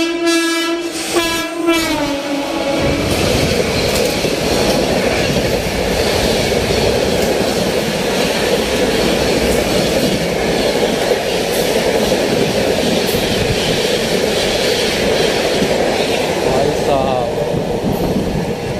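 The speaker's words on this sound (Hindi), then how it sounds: "ये थी नई दिल्ली अमृतसर शताब्दी एक्सप्रेस।" New Delhi–Amritsar Shatabdi Express train passing on a crossing track, opening with a loud horn blast, then a continuous close roar of coaches rushing by with rail clatter throughout.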